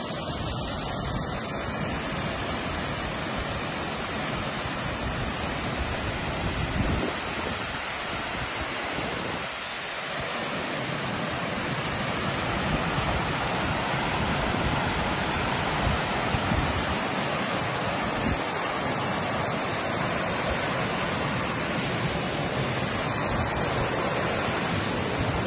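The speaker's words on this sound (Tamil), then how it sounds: "மோகினி நீர்வீழ்ச்சி இலங்கையிலிருந்து போய் பார்ப்போம் வாங்கோ" Rushing water at Mohini Falls near Hatton, Sri Lanka, a loud, continuous broadband roar holding steady for about twenty-five seconds with no talk over it.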